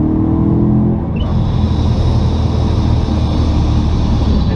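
A supercharged BMW M3 E92 pulls hard from inside the cabin, a loud, steady engine roar with a rising whine building as it accelerates continuously.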